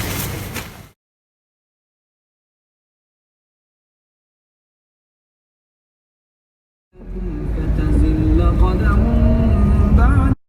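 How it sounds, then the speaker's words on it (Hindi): Car traffic on a Dubai road as lockdown eases, a steady loud roar of passing vehicles in the final few seconds, with a voice talking over it, after a long stretch of silence. "लॉकडाउन खुल गया है, ट्रैफिक शुरू हो गई है"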